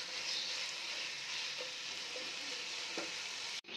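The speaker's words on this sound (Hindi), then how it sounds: "चिकन अच्छे से फ्राई कर लेंगे" Chicken fries in a pan with a continuous, even sizzle and crackle, fairly quiet and close, cut off abruptly near the end.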